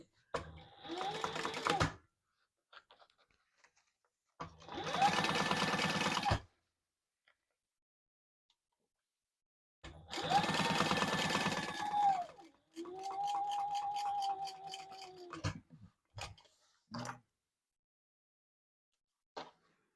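A home sewing machine top stitches purple fabric beside a zipper on a crossbody bag, running in three loud bursts of steady whirring, each a couple of seconds long, with quiet pauses and handling clicks between them.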